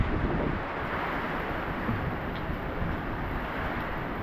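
A powerful typhoon gale blows without pause, a thick continuous roar with rumbling low gusts battering the microphone, loud and near, no one speaking.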